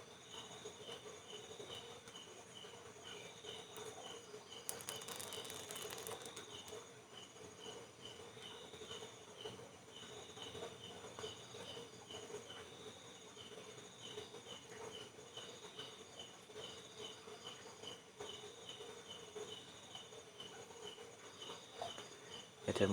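Crickets chirp at night in a steady, high, pulsing trill that runs continuously at a moderate level, with a brief burst of hiss partway through.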